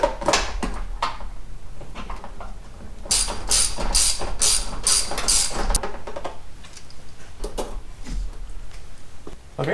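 A ratchet on long extensions works a 10mm bolt while a Cobb Stage 1 kit goes onto a 2015 Subaru WRX STI, giving close bursts of clicking, quiet between strokes.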